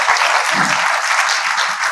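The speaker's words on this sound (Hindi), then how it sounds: "इस बात के लिए भी भरपूर तालियां।" Audience applause at a talk on formal education, a dense wash of many hands clapping at steady loudness for the full two seconds.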